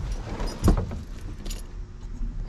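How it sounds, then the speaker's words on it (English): Car keys for a 1974 Volkswagen Super Beetle jangle close up, a short metallic rattle with one louder clink near the start, over faint background hum and no speech. "Let's go ahead and grab the keys."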